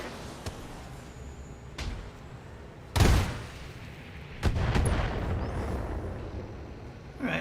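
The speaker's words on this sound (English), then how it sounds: "Firing all weapons." Weapons fire aimed at a Kit Fox mech in a video game booms out in several heavy, spaced blasts, two of them louder and rumbling, over a steady low mechanical hum.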